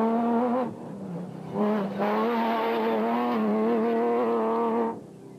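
A Toyota race car drives past at speed, its engine a loud, steady high-pitched whine with two brief dips as the driver shifts or lifts, then fading at the end.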